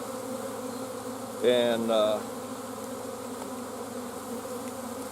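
Honey bees buzz around a nuc box during a hive installation, a soft steady hum underneath with one brief louder buzz passing close by for about a second. A single spoken word cuts in briefly.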